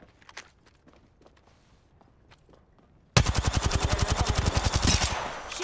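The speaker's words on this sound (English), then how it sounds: "They're shooting at me." Rapid automatic gunfire from the Apex Legends battle royale video game, starting abruptly after a few faint footsteps and clicks, then a loud, close, steady stream of shots for about two and a half seconds.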